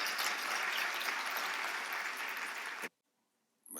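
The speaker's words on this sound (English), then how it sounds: "Round of applause." An audience at an investment summit claps in sustained, dense applause that cuts off abruptly near the end before a brief return.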